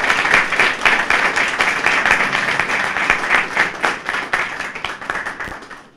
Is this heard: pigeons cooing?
no